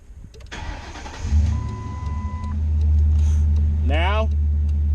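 A 2007 Ford P71 Police Interceptor cranks briefly and fires up, settling into a loud, steady idle that swells slightly, while a person speaks faintly nearby.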